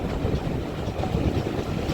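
Locomotive 7828 Odney Manor running on the West Somerset Railway, a brief stretch of continuous heavy rolling rumble with faint wheel clatter, loud and unbroken, no talk.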